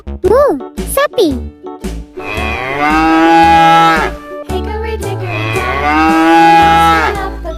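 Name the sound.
cow mooing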